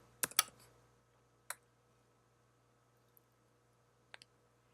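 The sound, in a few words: mouse double-click in software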